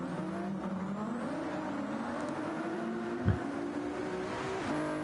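Race cars in a racing video game during a league race, several engines droning steadily together with a sustained revving whine, one brief low thump midway, no talk.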